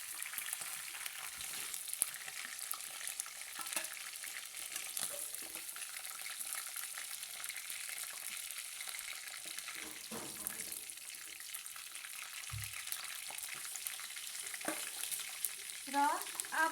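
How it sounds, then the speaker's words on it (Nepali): Chicken fries in oil in a pan, deep red and crisp, giving a steady, fairly loud broadband sizzle throughout with occasional scraping and clinks near the end. "र अब मेरो यो चिकन यतिको रातो भइसकेको छ, यतिको फ्राई भइसकेको छ।"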